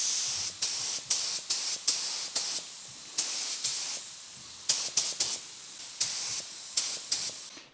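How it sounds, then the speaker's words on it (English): Spray gun applying Cerakote coating at 30 psi to a back cover during an Evo 8 rebuild, with repeated short hissing bursts in an irregular on-off rhythm, close and fairly loud. "we'll be spraying 2 coats at 30 psi"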